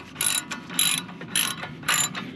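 Ratchet wrench tightening a coilover nut on an 8th-gen Honda Civic Si, four quick bursts of rapid clicking in an even rhythm, close and clear with no talking.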